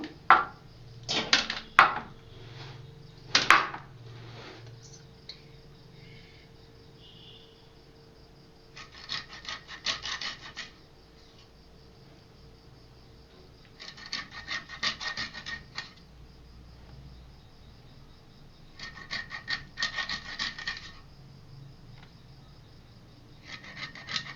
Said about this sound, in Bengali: এবার এই মাছটা কাটবো